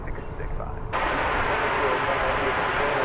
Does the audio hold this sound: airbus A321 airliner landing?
yes